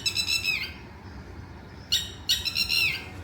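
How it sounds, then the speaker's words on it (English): Birds singing at a green hotel garden full of palm trees and tropical plants in Dubai, bright repeated chirping phrases in two bursts, clear and fairly close, with no talk. "Do you hear how birds sing?"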